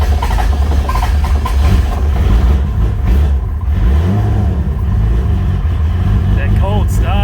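A Toyota Supra engine rumbles steadily at idle after a cold start, a low continuous drone with a brief rise in revs partway through.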